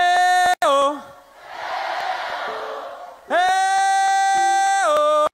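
Cruise ship crowd at a live band show shouts back a loud sustained call in unison, after which a singer's held, harmonically rich vocal returns over it.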